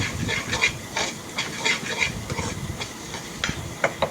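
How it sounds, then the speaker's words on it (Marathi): Turmeric masala stirred and mixed in hot oil for misal pav, giving soft sizzling hiss with repeated scraping strokes of a spoon in a pan, steady and close without talk. "चांगलं मिक्स करून घेऊया मसाला"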